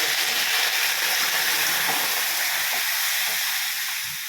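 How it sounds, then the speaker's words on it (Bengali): Water poured into a pan of frying potato and green papaya curry sets off a loud, steady steam hiss that lasts throughout and eases slightly toward the end, with no talking. "পেঁপে আলুটা কষা হয়ে গেছে, এবারে পরিমাণ মতন জল দেবো।"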